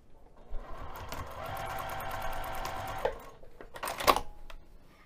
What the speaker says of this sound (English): let's take this over to the sewing machine and sew that down using an 1/8 inch seam allowance